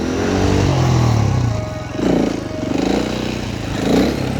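Supermoto motorcycle engine roaring loudly and continuously as the rider holds a wheelie and scrapes, with the revs surging and dipping in waves over a few seconds.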